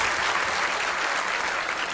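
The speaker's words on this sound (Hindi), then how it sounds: "और ताली तो बजा रहे हो" Audience clapping during a lecture, a dense, steady burst of applause that fills the room evenly and stays loud throughout, without any voices over it.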